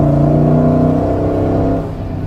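A Rezvani Tank armored SUV's 6.4-liter V8 roars loud and close under hard acceleration, a deep steady engine growl that eases slightly near the end.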